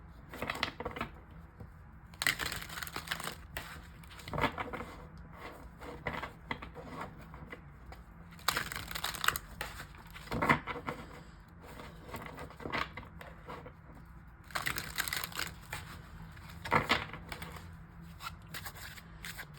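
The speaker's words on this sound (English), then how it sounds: "let's give this deck a shuffle" A tarot deck being shuffled by hand in repeated bursts of crisp riffling and card slaps, four or five rounds separated by short pauses, close and alone with no talk.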